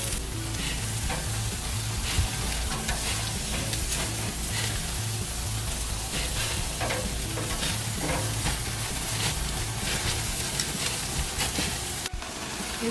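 Bacon-wrapped cheesy sausage jalapeno dogs sizzle steadily on a grill, with a loud, continuous crackling hiss and popping fat running unbroken from start to finish, and no voices.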